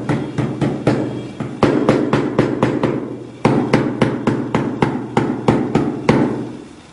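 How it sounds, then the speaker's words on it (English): A slag hammer taps repeatedly against a jewellery finish, using different points of the head to make tiny pits; sharp, loud metallic strikes come in quick runs with brief pauses between bursts, close up and alone. "what we're doing now is we're trying to create like little wormholes using the different points of the slag hammer"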